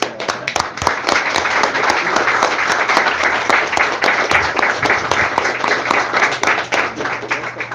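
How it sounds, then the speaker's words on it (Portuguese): Church congregation applauding during a Teacher's Day service, a dense, loud, sustained clapping with sharp individual claps standing out, continuing steadily throughout. "Palmas, papai."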